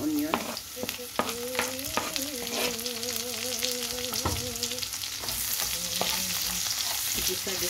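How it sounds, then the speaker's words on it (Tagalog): Chopped onions sauté in a hot pan for a chicken dish, giving a continuous moderate sizzle with stirring scrapes, while a faint melodic tone carries on underneath. "Gisa-gisa natin."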